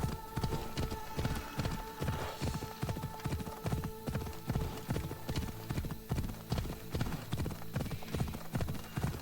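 Rhythmic clip-clop of a horse galloping steadily in a video game, close and loud, with a faint electronic hum beneath.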